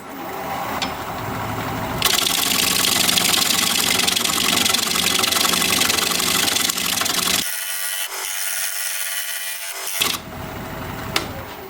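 Wood bowl on a lathe being cut at one corner, a steady broadband rasping scrape over the spinning motor hum that runs continuously, drops out briefly, then resumes.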